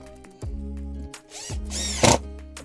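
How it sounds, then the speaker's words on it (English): Cordless power drill driving screws into oak beer-cask barrel wood for upcycled bar stools, two close, loud whirring bursts that bog down as each screw seats, with a short sharp crack near the end. "Chuck some screws in."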